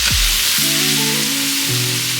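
Minced garlic sizzles loudly in a pan with meat for a meat sauce, a close, continuous frying hiss with no voices.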